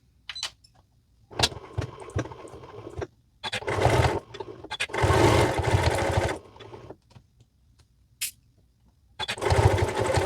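A sewing machine runs in repeated bursts of varying length, sewing a zigzag stitch along minky binding on a baby cuddle blanket, with loud, close motor whirring and quiet gaps between runs.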